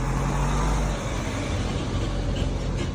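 A delivery vehicle rolls into the car-free Freetown Christiania district of Copenhagen, its engine a steady low rumble that stays loud and close for the whole stretch with no voices over it.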